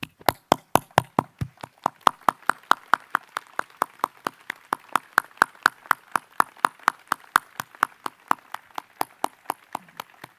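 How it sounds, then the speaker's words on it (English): Audience applause at the Salem Academy 2021 graduation ceremony, honoring the faculty and staff, comes as sharp, evenly spaced claps in a steady rhythm, about four per second, for ten seconds with no talk. "offering them a warm round of applause"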